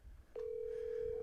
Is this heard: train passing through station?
no